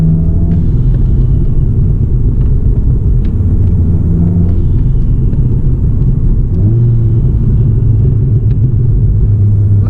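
A Volkswagen Golf GTI tuned to 340 horsepower accelerates hard, its deep engine rumble steady and loud throughout, with faint puffs of the dump valve released between gear changes.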